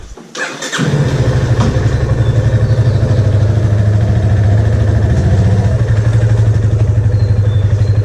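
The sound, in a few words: motorcycle engine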